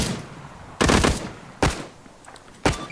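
Bursts of automatic gunfire in the military shooter game Arma 3, three loud crackling volleys separated by short gaps of rumbling background noise, with no voices.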